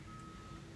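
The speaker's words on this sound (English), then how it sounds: "Oh, it starts making a beeping sound." A crane backing up sounds its reversing alarm, a steady high electronic beep tone held faintly over low rumbling machinery for a brief moment.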